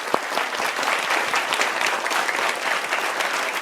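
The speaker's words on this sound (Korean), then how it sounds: "우리 박수 한번 하시죠." Audience applause at a lecture, a dense, lively patter of many hands clapping at a steady level with no talking over it.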